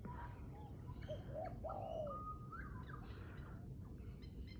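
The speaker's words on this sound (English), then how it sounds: "That bird sounds close." Birds call close by on a calm morning outdoors, a few short whistled and cooing notes scattered over a steady low background hum, with faint chirps further off.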